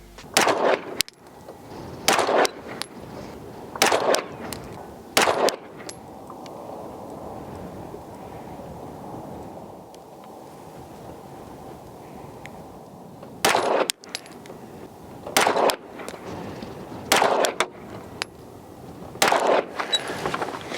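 Pistol shots fired while zeroing a Fox Army FXA12 Pro red dot, sharp loud reports in two spaced groups of about four, with a quiet outdoor lull between the volleys.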